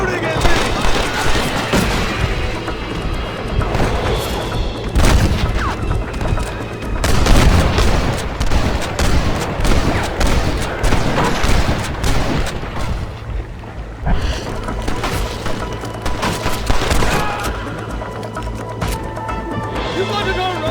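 Gunfire erupts in a Red Dead Redemption Western shootout, with loud, repeated shots and booms scattered irregularly across a busy battle soundscape, over which voices shout and talk.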